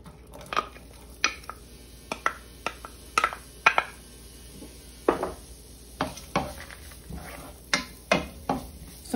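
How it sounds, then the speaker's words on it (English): Sharp clanks and scrapes of a utensil against a pot as onion and garlic go in for sautéing, the first step of a Caribbean pumpkin and Dominican smoked meat soup; about a dozen separate knocks spaced irregularly, close and fairly loud, no talking. "I'm going to be going in with my onion and garlic"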